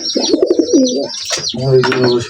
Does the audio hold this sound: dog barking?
no